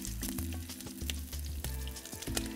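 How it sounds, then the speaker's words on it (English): Salmon fillets sizzle and crackle loudly in hot oil in a pan as they are flipped, a steady close frying hiss with bursts of spitting pops and a low hum beneath. "So now we're going to flip our salmon."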